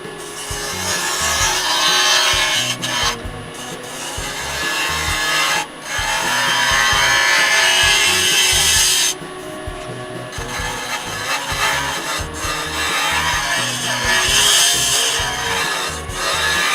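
A round nose scraper cuts a small poplar plate spinning on a wood lathe, giving a loud, continuous scraping rasp that surges and eases as the tool is pressed and lifted, with brief pauses.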